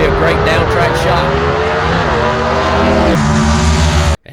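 Gasser drag race cars roar down the track at Mooresville Dragway in North Carolina, a loud, continuous, thick engine howl that shifts pitch as they accelerate, then cuts off abruptly at the end.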